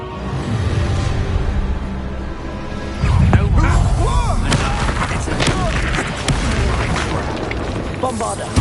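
Spell blasts from the video game Hogwarts Legacy go off as repeated booming explosions and sharp bursts of combat, loud and dense, with voices talking over the fight.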